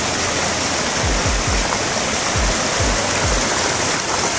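Clear river water flowing among mountains, a loud, steady rush of fast water with no pauses, close by, with a few low thumps underneath and no talk.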